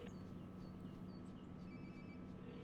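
A quiet phone rings in the Life is Strange: Before the Storm video game, a soft electronic ring over a steady hum of background ambience, with no talking.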